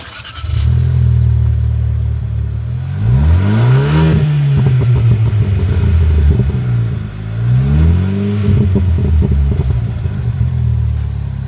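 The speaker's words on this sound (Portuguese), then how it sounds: "vou colocar aí para vocês escutarem o ronco desse motor quando a gente acelera" A 2026 Fiat Pulse Abarth engine with a modified exhaust revs hard twice, its deep exhaust note rising and falling in loud, rumbling sweeps with a throaty, aggressive tone up close.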